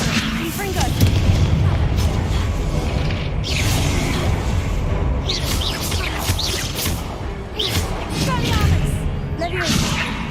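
Confringo blasting spell explosions in a Harry Potter video game: heavy, continuous booming and rumbling blasts with whooshing bursts, loud and dense, with a voice speaking over the chaos.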